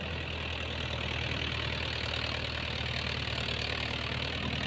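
A Mahindra Yuvo 575 4WD tractor pulls a 9-tine cultivator through an extremely wet field, its wheels slipping when the cultivator digs deep, its engine holding a steady, close, rumbling drone under load.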